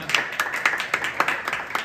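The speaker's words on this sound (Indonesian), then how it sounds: "Jadi tepuk tangan sekali lagi buat Bli Gustu." A small audience at a Bali Zildjian Day drum event claps for Bli Gustu, sparse and moderately quiet, with individual claps in a loose rhythm.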